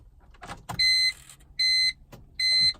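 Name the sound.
instrument cluster grinding sound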